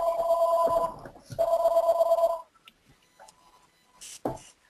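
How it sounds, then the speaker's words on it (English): A telephone bell rings in two loud bursts, then stops, leaving a quiet room with a few faint clicks and a brief rustle at the end. "Sorry about that phone in the background."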